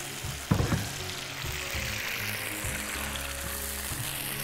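Red sauce sizzling steadily in a hot pan just after a splash of water goes in, with a sharp burst at the start followed by a continuous close, loud frying hiss and faint stirring clatter.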